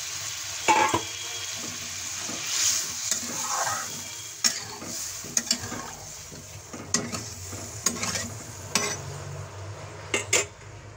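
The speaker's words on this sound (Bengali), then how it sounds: "মশলা আর মটর কষানো হয়ে গেছে, এখন আমি দিয়ে দিচ্ছি জল।" Water is poured into a pan of fried peas and spice masala for a pea curry, with sizzling, a brief splash, then repeated clinks of a spoon stirring against the pan.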